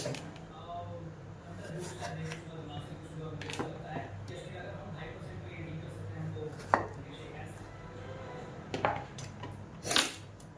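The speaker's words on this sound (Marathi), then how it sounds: "मी घेतले हे 4 टोमॅटो आणि हे अर्धे अर्धे करते." A knife slices four tomatoes in half on a kitchen board, with sparse sharp cuts and taps against a steady low hum, under ongoing talk.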